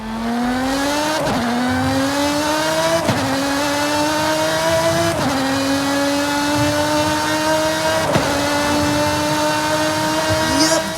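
In Forza Horizon 5, a Lotus 3-Eleven with a Toyota Camry-derived V6 howls steadily and loudly, its pitch rising through five gear pulls split by quick shifts, with no talk.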